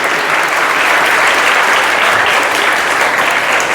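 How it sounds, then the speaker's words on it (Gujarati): Audience applause fills a welcome-speech gathering at a college Mehndi festival: dense, steady clapping from many hands, loud and close, continuing without a break. "તાળી પાડવામાં તો કંઈ વાંધો છે જ."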